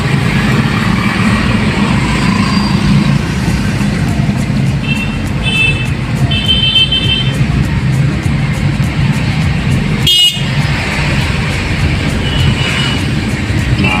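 Busy road crossing in the Philippines with steady heavy traffic rumble, engines idling and passing close by, a constant loud low drone with brief higher whines and one sharp passing burst near the middle.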